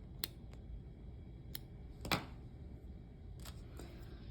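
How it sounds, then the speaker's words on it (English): Scissors snip crochet yarn during work on a lap blanket, a few faint, sharp clicks spaced irregularly across a quiet background, one slightly louder cut near the middle. "Pull that one through and snip it."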